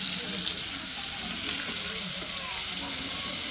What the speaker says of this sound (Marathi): आपल्याला ह्या तेलामध्ये पनीर सगळं थोडंसं तेलात फ्राय करून घ्यायचं आहे